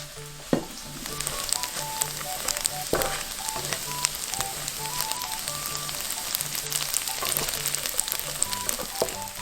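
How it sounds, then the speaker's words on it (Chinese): Shiitake, enoki mushrooms and ginger fry in sesame oil in a wok with fried tofu, giving a steady close sizzle with scattered sharp crackles and a few stirring knocks throughout. "再放入香菇、金针菇跟老姜煸至焦黄"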